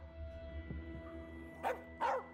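A dog in the As Dusk Falls game, set at a motel, gives two short, sharp barks close by near the end, after a quiet stretch with low background hum and a faint earlier yip.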